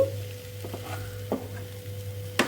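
Crispy corn coated in salt and red chilli powder frying in a pan with little oil over a low flame; a faint sizzle sits under a steady hum, punctuated by a few soft scrapes of stirring.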